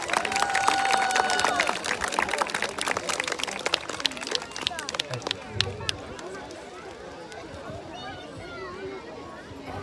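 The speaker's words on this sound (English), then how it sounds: "round of applause for this youngest kid." An audience claps for a young child performer at a Ratha Yatra cultural program in Troy, Michigan; a dense burst of applause that gradually thins and fades, with crowd murmur and voices underneath.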